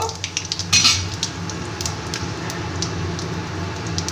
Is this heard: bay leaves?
yes